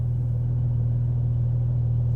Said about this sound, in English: Taking Daddy's Porsche for a spin.